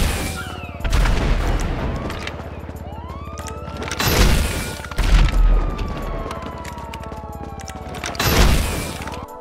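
In GTA Online, rockets fired after aiming with a sniper rifle land as a few heavy, booming explosions with crashing debris, each followed by a rumbling decay, with faint gunfire and sirens in the background.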